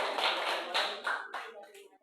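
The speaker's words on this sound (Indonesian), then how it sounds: "Tepuk tangan." A classroom of students clapping hands together in a few short, uneven bursts, fairly close and moderately loud, tapering off toward the end.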